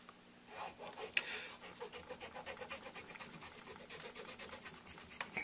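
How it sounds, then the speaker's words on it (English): A hand file shapes a repaired tooth gouge in a bite plate whose filled material is still slightly soft, giving close, steady rhythmic rasping strokes that repeat quickly in an even back-and-forth pattern. "you can just get by with hand filing and shaping"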